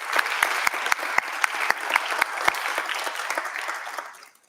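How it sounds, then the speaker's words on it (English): A crowd at an awards ceremony applauds steadily with dense, sustained clapping that fades out toward the end. "Let's give them another big round of applause."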